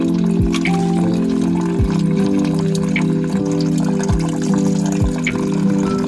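Water drains from a hose pulled off a camper van's water heater, gurgling and trickling steadily under a constant loud mechanical hum, with soft repeated knocks and drips.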